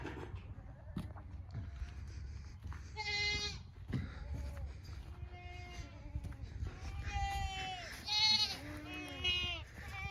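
Farm goats bleat again and again over ten seconds, several overlapping wavering calls near and far, over a low rumble of background noise.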